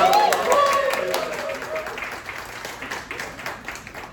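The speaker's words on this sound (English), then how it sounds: "Let's have a round of applause." Brief round of applause for a wine venue, moderately loud claps mixed with a lively crowd and some voices, tapering off over a few seconds.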